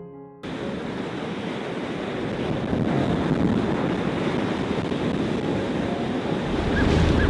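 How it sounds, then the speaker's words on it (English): Atlantic ocean waves surge through the Glass Window on Eleuthera, a steady rushing wash of surf with heavy wind buffeting the microphone, building slightly louder toward the end. "Water coming in from the Atlantic."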